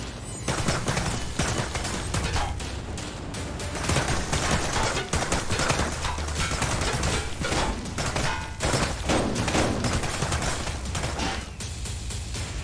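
Dense, continuous gunfire and clattering action sounds fill a VR shooter, a busy, loud barrage of overlapping shots with no clear pauses and no talking.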